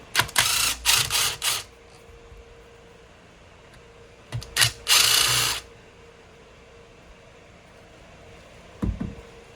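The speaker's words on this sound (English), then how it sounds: "if you are going to use a drill, and especially at a higher speed like I'm using now" A cordless power drill spins out hex head cap screws from a Jonsered 625 II chainsaw during a rebuild, in two loud whirring bursts of a couple of seconds each, then one brief final buzz, with quiet gaps between.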